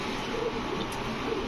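Pakistani pigeons, Saharanpuri and Aliwala hens among them, cooing softly in a loft, low murmuring calls repeating under a faint background hum.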